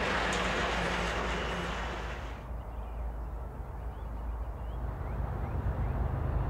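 A CSX coal train on the Salisbury branch rumbles past with heavy low-end roar and rail noise, the bright hiss fading after a couple of seconds into a steady deep rumble that continues alone.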